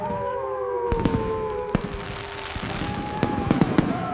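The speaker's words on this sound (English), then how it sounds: "Boom! The sky lights up for the new year." Animated New Year fireworks burst in the night sky with a series of sharp, loud cracks and pops over a low, sustained whooshing backdrop, several bangs clustered near the end.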